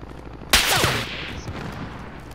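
A single sharp gunshot in Call of Duty: Warzone cracks out loud and near, followed by a decaying rumble and faint ringing echo in the open battlefield.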